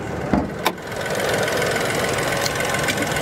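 A small engine idles under the open hood of a Chevrolet Trailblazer SUV, a close, steady, slightly rattly hum with a faint vibration, broken by a few brief knocks near the start and no talk.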